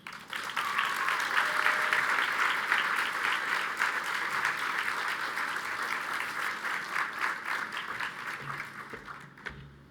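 An audience applauds at a Bottom Line Chicago Rise Up event as John is welcomed onto the stage, sustained clapping that stays loud and full for several seconds before tapering off at the end.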